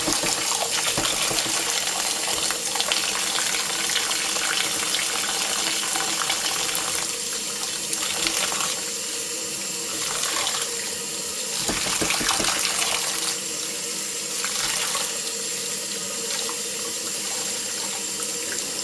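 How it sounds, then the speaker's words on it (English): Tap water runs over leftover cooked pasta as hands rinse away the starch, a steady, loud gushing stream into a sink, shifting slightly in tone as the flow is disturbed, with no talking. "So you use your hands to rub away or wash away the pasta starch"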